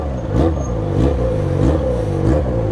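A Yamaha XJ6 motorcycle modified to sound like a Harley, revving loudly and close in city traffic, its engine note rising and falling in a steady pulsing rhythm.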